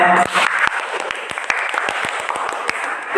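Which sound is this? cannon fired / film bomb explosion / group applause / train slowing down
group applause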